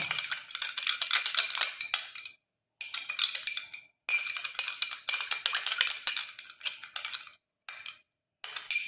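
A spoon stirring a turmeric face pack mixture in a small bowl, quick repeated clinks and scraping in several bursts separated by short pauses, close and fairly faint.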